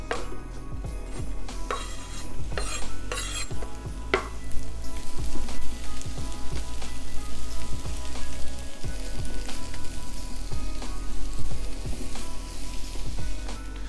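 Onions frying in olive oil in a hot pan give a loud, steady crackling sizzle throughout, with a few clanks and utensil taps early on, no speech.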